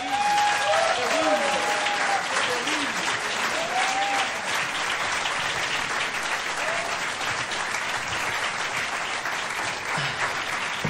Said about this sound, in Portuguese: Quero uma salva de palmas muito grande para o Vítor Copa.